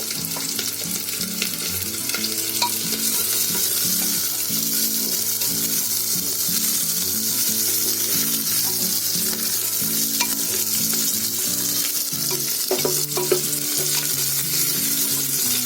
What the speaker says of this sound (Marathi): मिरची पण चांगली घी मध्ये चांगली फिरली आहे बघा